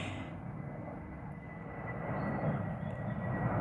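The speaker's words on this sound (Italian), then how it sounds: "passano tutti questi aerei" Airplanes passing overhead near Naples, a broad steady roar that swells slightly toward the end, heard outdoors over a garden while chamomile is cut, with no talk.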